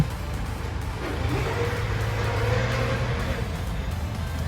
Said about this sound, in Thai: พอจะได้ยินเสียงหน่อยๆนะครับ มันจะดังว้อหน่อยๆนะครับ น่าจะเป็นลูกปืน ปลายเผานะครับ